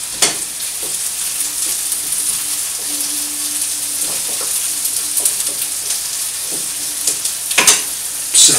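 Bacon frying in a pan for a quick Slavic-style soup, a loud continuous close sizzle and spatter with small clatters and a few sharper pops toward the end, with no voices.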